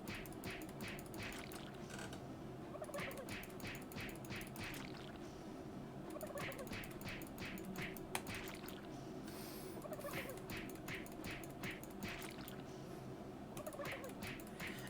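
Turkeys gobble in repeated bursts in Super Turbo Turkey Puncher 3, the arcade minigame inside the Doom 3 video game, with ratcheting mechanical clicks and a steady background hum between the calls.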